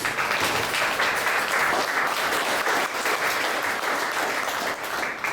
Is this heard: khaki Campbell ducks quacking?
no